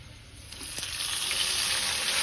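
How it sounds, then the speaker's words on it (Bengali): Marinated meat dropped into a hot kadai sizzles with a steady, close hiss that grows slightly louder and stays constant, with no talking. "মাংসটাকে মেখে আপাতত কড়াইয়ের মধ্যে দিয়ে দিল"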